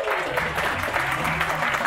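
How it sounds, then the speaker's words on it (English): A live show audience breaks into a brief, full burst of applause and cheering, a thick crowd wash with some voices mixed in. "Give yourselves a big round of applause."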